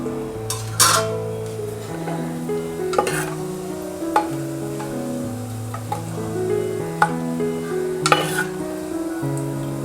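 Whole spices, cardamom, star anise and bay leaf, frying in oil for mutton biryani: a steady sizzle under music, with a few clinks and stirring taps of a utensil against the pan.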